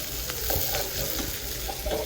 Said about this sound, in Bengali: আর এটাতে বাবুর জন্য ডিম ভাজা শুরু করে দিয়েছি